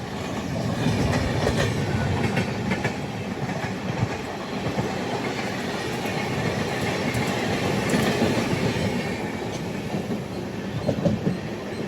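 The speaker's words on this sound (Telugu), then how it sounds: "మెల్లగా ఎంటర్ అవుతుంది జోలార్పేట జంక్షన్కి" The Seshadri Express rolls slowly into Jolarpettai junction with a steady rumble and clickety-clack of wheels on the rails, heard up close from inside a general coach.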